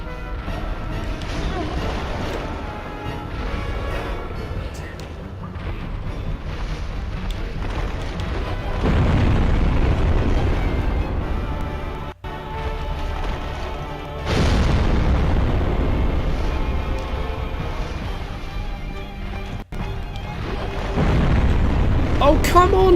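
Heavy booming blasts from a boss in Dark Souls, rolling deep explosions that come in long, loud waves with short gaps between them, while a player talks and exclaims over the top.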